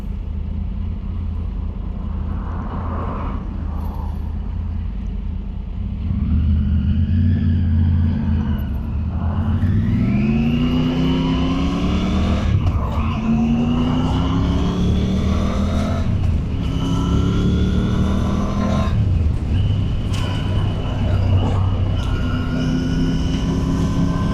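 Cars drive past on a mountain road in a steady stream, engines rising and falling in pitch as each vehicle approaches and recedes, with a continuous close road noise underneath.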